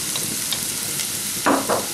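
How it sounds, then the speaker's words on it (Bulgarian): Carrots frying in oil in a pan give a steady hiss of sizzling, with two brief louder bursts of spitting and stirring near the end. "И сега започваме с запържването на морковите"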